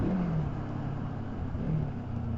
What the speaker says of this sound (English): this little engine, this little 300, singing along at 70 to 80 miles an hour